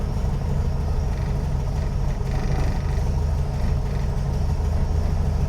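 A 1957 VW Beetle's engine runs steadily and close by, a low, continuous rumbling drone that is slightly uneven, with no voices over it.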